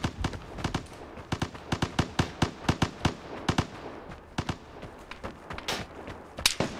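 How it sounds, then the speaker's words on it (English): Repeated sharp gunshots in the Xbox One video game Vigor, fired at the player from two directions, cracking in quick irregular bursts at close to mid range, with no talk over them. "I'm getting shot from two different directions."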